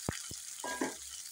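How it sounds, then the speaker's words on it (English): Red onion and spring onion fry in a pan with a soft, steady sizzle, broken by a few close taps and a brief stirring scrape. "I've used one red onion and some spring onion, so that is what is cooking right now."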